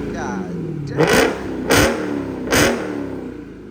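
A straight-piped Dodge Challenger Hellcat Redeye with a supercharged engine revs in three sharp, loud bursts about a second apart, settling back to a rumbling idle between them as a voice speaks.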